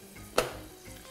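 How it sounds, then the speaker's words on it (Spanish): Fish slices and garlic cloves frying in a pan, a steady low sizzle with one brief louder burst of spattering near the start, then settling back to a soft continuous crackle. "Me gusta freírlo así un poquito porque se queda como más jugosa la tajada."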